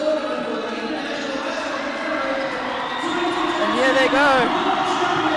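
A stadium crowd roars and cheers for South Africa's team at an IIHF Division III ice hockey world championship game, a broad continuous din that swells near the end while a commentator talks over it.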